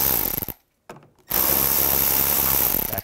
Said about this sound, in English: Just use an 8 millimeter socket.